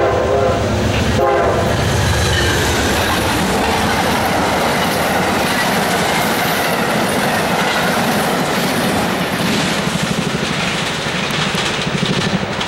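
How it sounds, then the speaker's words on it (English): An Amtrak Carolinian passenger train roars past close by, its horn blaring at the start, wheels clattering and rumbling steadily along the rails throughout. "Here comes the southbound counterpart to the previous train."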